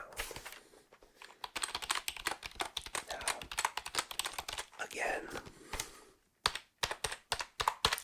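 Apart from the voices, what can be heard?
thocky mechanical computer keyboard typing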